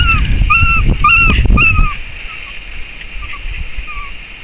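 Dogs whimper and yip in a rapid series of high, rising cries during the first two seconds, close and fairly loud, then a few fainter whines follow over breezy outdoor background at the start of a fell walk near Buttermere.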